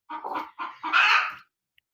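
A hen gives a few clucks in quick succession, ending in a longer, louder drawn-out cluck, close and clear against silence.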